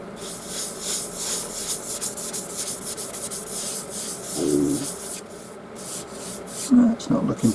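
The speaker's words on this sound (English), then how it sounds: "we're sanded down to 320" Steady abrasive rubbing of 320-grit sandpaper against a cherry bowl spinning on a lathe, a continuous dry hiss with a brief heavier pass midway, ending with faint handling noises.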